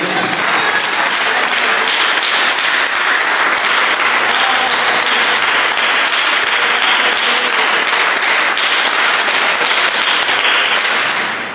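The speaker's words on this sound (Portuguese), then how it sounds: "Desocupe vossas mãos e dê uma salva de palmas para Jesus" A church congregation applauds together, a dense, loud and steady wash of many hands clapping that fills the hall without a break, easing off only at the very end.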